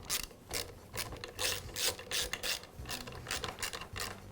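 A wrench or ratchet tightening the nuts that hold the airbox of a Husqvarna blower onto its studs, in quick bursts of close, crisp clicks with short pauses between them.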